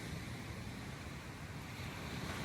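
Ocean waves wash up over a sandy beach at sunrise, a steady broadband hiss of surf with some wind rumble, distant and fairly faint throughout.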